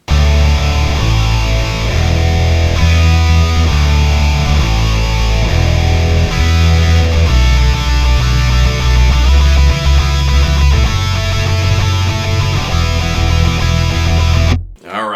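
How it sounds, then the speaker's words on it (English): Distorted electric guitar riff from a song, backed by a deep bass line, plays loud and continuous for most of the stretch before cutting off abruptly near the end. "Let's hear what it actually sounds like with a bass though."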